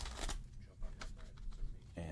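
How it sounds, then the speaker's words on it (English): A deck of tarot cards is shuffled by hand, with several brisk riffling bursts of papery flicks and slides close by under quiet talk. "And so now I'm doing a little bit of shuffling here."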